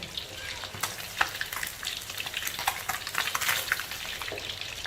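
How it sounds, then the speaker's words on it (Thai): Floured sand whiting fish fries in hot oil in a pan, giving a steady crackling sizzle dotted with sharp pops and spatters as the pieces are stirred, close and with no talk. "ทอดให้เหลืองกรอบเลยนะคะ"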